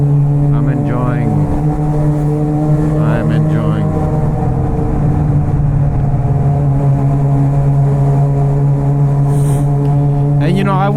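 A Suzuki GSX-R600 sport bike engine holds a steady, loud droning hum while riding, with a rider talking over it throughout.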